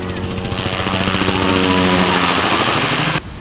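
A loud, steady engine roar with a propeller-like drone builds as an aircraft takes off, holding strong for about three seconds before abruptly dropping away.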